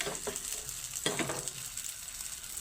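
Egg and Maggi noodle fritter batter dropped into hot oil in a pan, giving a continuous bright sizzle with a few louder spatter bursts early on, close and steady.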